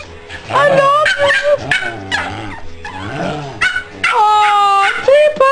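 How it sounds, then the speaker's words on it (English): Young puppies whimpering and yipping close by, a steady run of high-pitched, wavering cries that rise and fall with barely a pause. "Oh, the sweet puppies."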